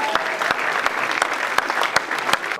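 An audience at an event welcoming cast members claps steadily, a dense, close wash of applause that continues unbroken, with sharp louder claps standing out at regular intervals.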